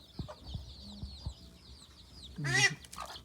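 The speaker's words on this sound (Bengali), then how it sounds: "লালি এটা হচ্ছে আমার সবসাইতে আমার খামারের পুরাতন একটা মুরগি এটা আমার কাছে আছে" An old hen on a farm gives a few soft, close clucks, followed by a louder burst of squawking near the end, with quiet background between calls.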